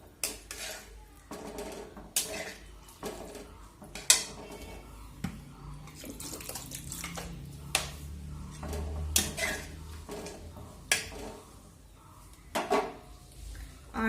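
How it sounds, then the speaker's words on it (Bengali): Water is poured into a cooking pot for a fish curry in a home kitchen, with intermittent clinks of pots and utensils and faint splashing, fairly quiet, no talk. "তাই আমি আমার পরিমাণ মতো জল দিলাম।"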